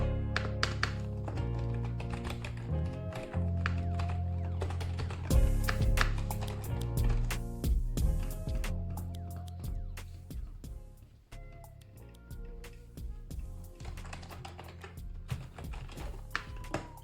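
Rapid typing on a Logitech G213 membrane keyboard, a dense run of soft tapping keystrokes with occasional louder presses, close and continuous with no talking.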